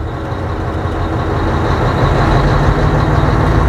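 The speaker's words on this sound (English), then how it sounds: "it does sound very loud but powerful with these old V8 engines" A 1996 Scania 143M truck's old V8 engine rumbles loudly and steadily, deep and powerful with a throaty exhaust roar that swells slightly toward the end.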